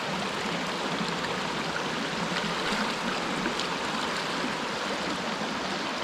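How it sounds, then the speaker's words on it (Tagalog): A river stream flows steadily close by, a continuous full rushing and trickling of water that holds even throughout, with no voices. "Para malinis na po dito, diretso ang agos."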